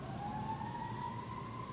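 Fire truck siren wails from outside in a residential subdivision, a faint, distant rising tone held steadily with low road rumble beneath.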